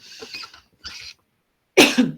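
Three separate coughs, the first two lighter and the last one louder and harsher, with brief silences between them.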